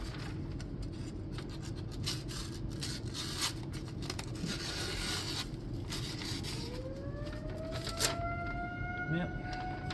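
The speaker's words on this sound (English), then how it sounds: "Tornado siren." A distant outdoor tornado siren during its first-Wednesday-of-the-month test rises as a faint wailing tone late in the stretch, behind close scraping and rasping from sharpening work on a bevel, with speech nearby.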